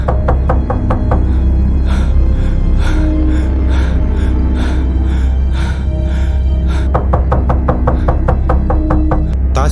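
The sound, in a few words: knocking on a door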